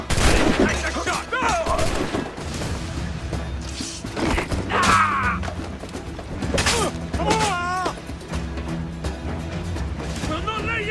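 Dense gunfire crackles through a naval battle in Assassin's Creed 4: Black Flag, with rapid volleys, sharp crashes and shouting voices over a constant loud game soundscape.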